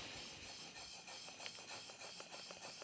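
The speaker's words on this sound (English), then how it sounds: "hand sharpen on this Scary sharp system, which is great." A block plane blade is rubbed back and forth on sandpaper in a scary-sharp setup, giving faint, rhythmic abrasive rasping strokes close up with no talk.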